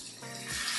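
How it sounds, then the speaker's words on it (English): A ribeye steak sizzling as it hits a hot pan, a brief close hiss that swells louder partway through. "if it sizzles, we have it hot enough"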